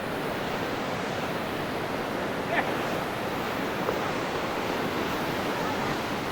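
Ocean surf where surfers ride, heard as a steady broad wash of breaking waves with light wind noise across the microphone and no clear individual crashes.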